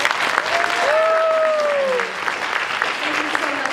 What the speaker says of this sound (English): So please give her a big round of applause for all her work.